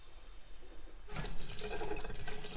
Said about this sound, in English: Oh, it's filling up the water here.